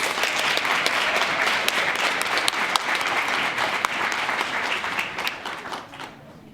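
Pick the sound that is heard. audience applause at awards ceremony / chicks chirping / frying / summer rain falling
audience applause at awards ceremony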